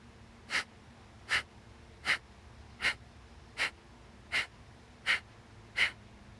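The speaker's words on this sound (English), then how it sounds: "the emphasis is on pulling your belly back towards your spine as you exhale, creating a pumping with the belly" Belly-pumping yoga breath: eight sharp, forceful nasal exhales at a steady rhythm of roughly one every 0.75 seconds, close and clear over a quiet background hum.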